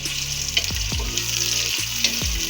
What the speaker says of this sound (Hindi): ऑयल गर्म हो चुका है, अब इसमें ऐड कर रही हूँ प्याज।